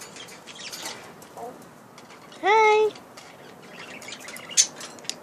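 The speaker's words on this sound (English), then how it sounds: "He's a lovebird, a Fisher lovebird." A Fischer's lovebird gives a single bright chirp, rising in quick harmonic steps and lasting under a second, with a later sharp squeak and a quiet room around it, and a voice briefly saying a word.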